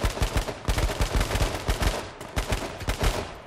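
Rapid gunfire from the online battle royale shooter H1Z1 crackles continuously in loud, dense bursts of overlapping shots for the whole stretch, with no voices over it.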